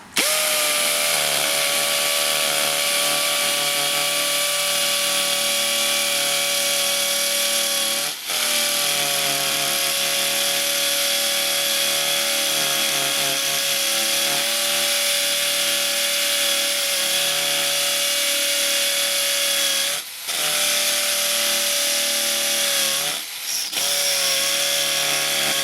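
Loud, continuous drilling into concrete by a Makita 40-volt hammer drill with an 11mm bit, with a steady whine broken by a few brief pauses, goes on for most of half a minute.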